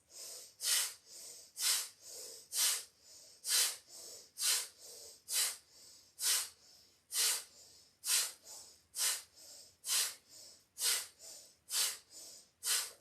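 Strong forceful exhales during a yoga breathing exercise, a rapid rhythmic series of about twenty sharp nasal bursts, close and loud, with no talking.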